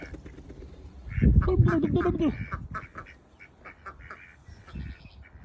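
Ducks in a duck house quack in a close, loud burst of overlapping calls, then scattered quacks and rustling follow more quietly.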